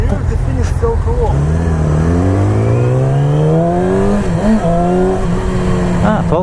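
A 2020 Yamaha R6 sport motorcycle engine while riding, loud and close, its pitch climbing steadily through the revs with gear changes and dips, continuous for several seconds.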